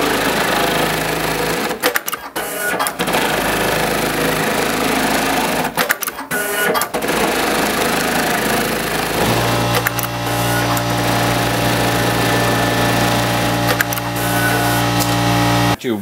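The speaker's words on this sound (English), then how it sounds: "You push the right pedal and then left pedal to sew." An industrial pattern sewing machine stitches steadily and loudly with a dense mechanical whir. It pauses briefly twice, then settles into a steadier, more tonal run.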